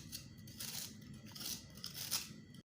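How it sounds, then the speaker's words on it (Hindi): Tomatoes are sliced with a knife for a homemade chicken and potato shorba, giving a series of close, wet crunchy cuts in irregular strokes, fairly quiet, with no voices. "ये हम टमाटर काट रहे हैं"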